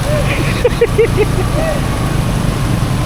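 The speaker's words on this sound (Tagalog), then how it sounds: "Mahina ako yung motor natin eh." A weak motorboat engine pushes through flood water in Hagonoy, Bulacan, with a low, steady drone close by and people talking over it.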